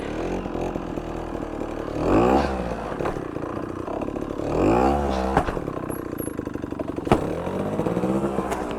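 Trials motorcycle engine revving hard on the throttle during a riding line, with two rising-and-falling roars, sharp clunks and clatter between bursts, close and loud, with no voices.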